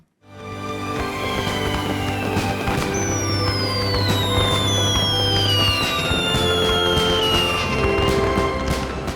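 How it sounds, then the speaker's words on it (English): July 4th fireworks fired over Mount Rubidoux in Riverside: a dense barrage of crackling bursts and sharp pops with descending whistles, continuous and loud from start to end. "the city of Riverside had hosted a July 4th fireworks show each year from high atop Mount Rubidoux"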